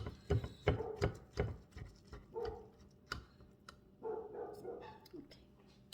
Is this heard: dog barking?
yes